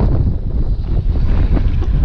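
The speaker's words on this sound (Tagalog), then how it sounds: "Malakas lang ang hangin." Strong sea wind buffets a fishing boat, a loud continuous roaring gust noise with rough low rumble and wave wash, close to the microphone throughout.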